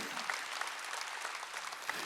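A church congregation claps steadily during a sermon for a couple of seconds, dense overlapping applause at moderate volume with no pauses.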